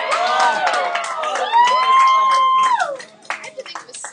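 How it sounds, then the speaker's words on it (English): A classroom of students breaks into loud cheering and whooping, voices overlapping with some clapping, then it tapers into scattered shouts. "Everybody cheer."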